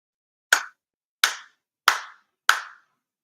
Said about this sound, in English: 祈祷拝礼 for sincere claps